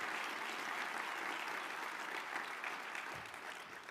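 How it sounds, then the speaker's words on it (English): Sustained audience applause at a military awards ceremony for awardees at an Army conference, steady dense clapping from a large crowd that eases slightly toward the end. "Let's give one last round of applause for these awardees"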